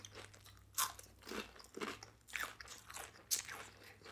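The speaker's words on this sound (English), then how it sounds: "as soon as I bit into this onion ring" Someone bites into crunchy onion rings with garlic mayo, giving several sharp, close crunches followed by chewing and soft mouth noises in a quiet room.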